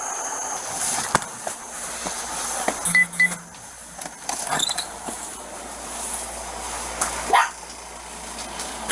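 Dogs and puppies barking inside a car, with sharp, scattered barks and yips rising over steady cabin rumble and creaks, moderately close and without speech.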